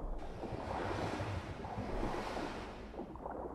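Water in the game Dying Light washes in a continuous, rushing surf of waves, broad and steady with a wind-like hiss throughout.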